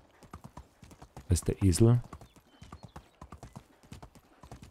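Horse hooves clip-clopping in the Medieval Dynasty video game, a steady rapid patter of hoofbeats throughout with a brief whinny midway, under someone talking.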